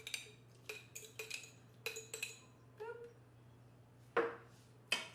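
Sliced green olives tipped into a dish and stirred make a string of light, quiet clinks and taps from a utensil against the dish, followed by two sharper knocks near the end.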